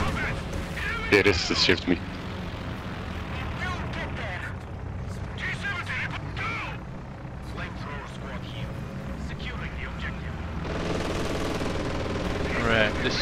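During a Company of Heroes 2 match, an aircraft strafing run sends sustained machine-gun fire and rumbling battle noise across the field, with louder bursts near the start and end while a player talks over it.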